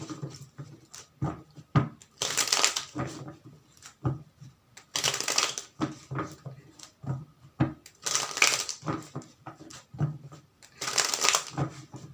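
Tarot cards are shuffled for a reading, with four loud riffling bursts roughly every three seconds and quieter taps and handling noises between them, close to the listener.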